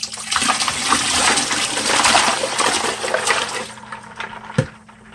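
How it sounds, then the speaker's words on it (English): Heavily iced water is poured into a turkey brine in a kitchen, giving a loud, continuous splashing gush up close that tapers off, with a brief clunk near the end. "Then we're going to add our heavily iced water."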